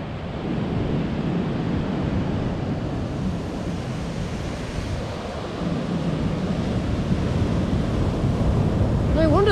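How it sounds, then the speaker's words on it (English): Massive ocean waves crash and roll along the coast in a continuous heavy roar, buffeted by wind noise on the microphone and rising slightly in the later seconds, with a brief vocal sound at the very end. "There's, wow, some massive waves."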